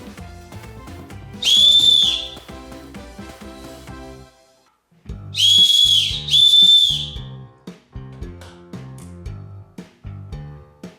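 Turned wooden whistle blown hard, three loud, shrill piercing blasts of a second or so each, standing out over a background of rhythmic music with a pause between the first and second blasts.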